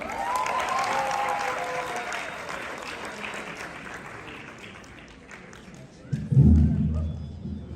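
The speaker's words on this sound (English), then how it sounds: "So let's give a round of applause to Patient Nyoni." An audience claps for a youth entrepreneurship and education event honoree, broad steady applause filling most of the moment before a few louder thumps and handling noises near the end.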